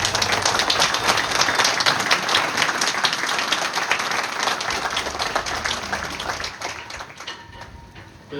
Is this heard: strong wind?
no